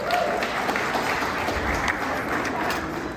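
Steady applause from an audience at a literacy foundation fundraiser, a dense, even wash of clapping that holds at a constant level for the whole stretch, with a few voices mixed faintly into it.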